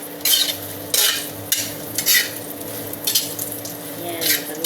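Kikiam fish balls fry in hot oil for pancit, giving a steady low sizzle broken by repeated bursts of spatula stirring and scraping against the pan.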